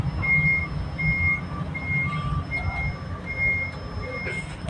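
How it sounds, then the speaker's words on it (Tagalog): Trucks load onto a ferry at Dumangas Port in Iloilo, with a reversing alarm beeping in a steady repeated rhythm over a low, continuous engine and harbor rumble. "napapanood nyo yun kung paano mag-loading ang mga truck dito sa barko po."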